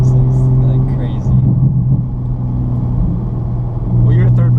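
Turbocharged, tuned 2020 Toyota GR Supra with 416 horsepower accelerating, a loud, steady low engine drone with faint turbo whistle on top, heard from inside the cabin with voices talking over it.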